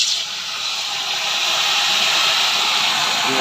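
Water poured into a hot pan of roasted, slightly overdone moong dal sets off a steady, loud hissing sizzle that holds without a break, with no talking over it.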